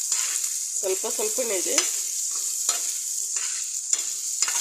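Chopped green chillies frying with okra for bhindi chutney in a pan, a continuous close sizzle with intermittent scraping stirs, while a voice briefly speaks over it early on.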